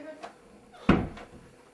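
A wooden door being shut in a storybook tale, a single close thud after a faint creak, with a soft knock-like tap before it.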